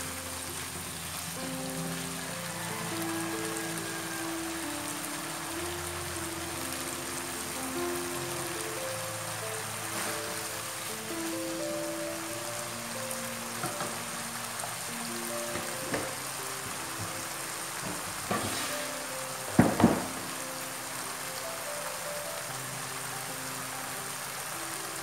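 Sambal with anchovies and petai fries in a pan with a soft, continuous sizzle and crackle, with a few louder knocks and scrapes near the end.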